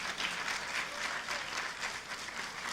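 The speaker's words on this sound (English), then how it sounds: "Yes, you may applaud." Dense, steady applause from an audience at a college freshman orientation, sustained at an even level throughout with no voices rising above it.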